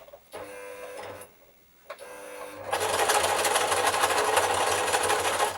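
A sewing machine stitches bunting flags into bias binding, first two short bursts for back stitches, then a steady, close, rapid run of stitching that continues alone to the end.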